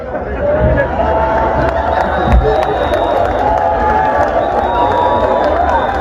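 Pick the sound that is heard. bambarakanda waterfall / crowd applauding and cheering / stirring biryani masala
crowd applauding and cheering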